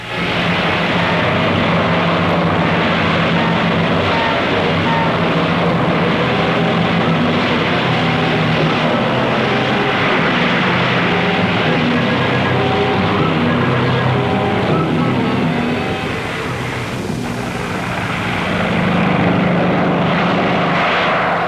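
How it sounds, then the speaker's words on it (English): Propeller engines of B-25 bombers roar steadily as they take off from the aircraft carrier Hornet in heavy weather in April 1942, a loud continuous drone with a brief dip near the end and no voices. "these B-25s took off in weather that wanted to wreck the world"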